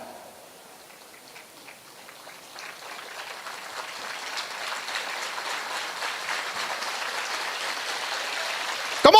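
Applause from a student audience at a pre-university college inauguration ceremony, starting faint and sparse and swelling steadily into dense, loud clapping that fills the hall by the end.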